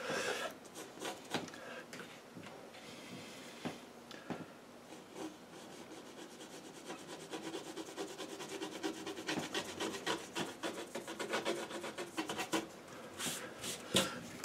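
Dry scraping and rubbing across watercolour paper as paint is loosened and lifted off, a close, gritty rasp in repeated short strokes, steady and fairly quiet with no talk.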